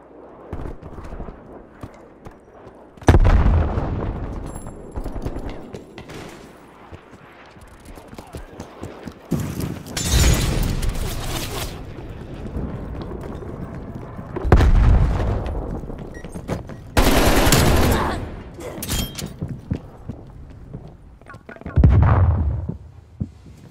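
Bursts of gunfire from an online multiplayer shooter game, several loud broadband volleys spread across the stretch with quieter rumbling in between.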